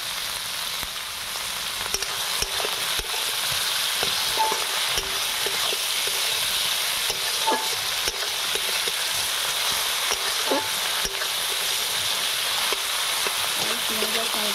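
Onion and tomato sizzle steadily in a pan after salt is added, a dense continuous frying hiss with occasional soft clicks of a utensil, fairly loud and with no talking.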